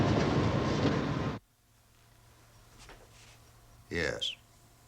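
A train rumbles loudly on the rails for about a second and a half, then cuts off to a quiet interior with a brief sharp sound near the end.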